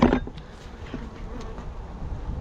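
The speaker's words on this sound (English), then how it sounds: "Nice chunk of bees." Honey bees humming around a hive, a dense steady buzz close by with occasional louder passes of individual bees near the ear, no voices.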